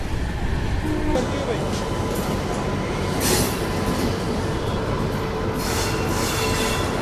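The Brindavan Express from MGR Chennai Central to KSR Bengaluru pulls into a crowded station with a broad rumbling roar, hiss and wheel squeal, while voices murmur among the crowd.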